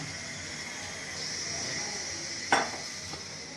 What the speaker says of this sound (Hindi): अब ये चावलों को उबाल आना शुरू हो गया। अब इसको खूब उबालूंगी।